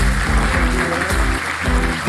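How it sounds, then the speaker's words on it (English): A conference audience at an investor day event claps steadily, a dense wash of applause running throughout, with low musical tones sounding underneath. "please give him a big round of applause"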